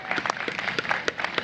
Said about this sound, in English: Give the Friends of Cleveland Park a big round of applause.